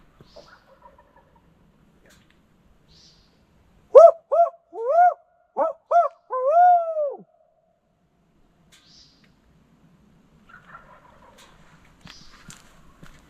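A turkey hunter imitates an owl with his voice, a short run of loud hooting calls in a quick rhythm against near silence, with faint rustling before and after.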